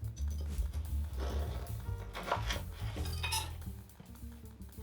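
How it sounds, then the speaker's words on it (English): Knife slicing through freshly baked matcha scones with white chocolate, a series of soft cuts and light scrapes against a plate or board, close and steady with faint clinks. "Cut the scones in half."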